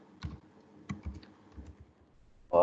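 Keystrokes on a computer keyboard come in short, quiet clusters of taps separated by pauses, with a louder knock at the very end; no one speaks.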